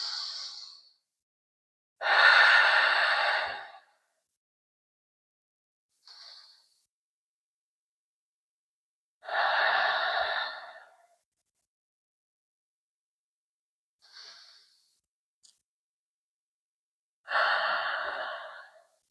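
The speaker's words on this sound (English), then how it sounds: "let's take 5 to 10 more breaths" Slow deep breaths during a yoga practice, each long inhale-exhale cycle a few seconds long and separated by silence, with softer shorter breaths in between; close, clear and alone with no talk.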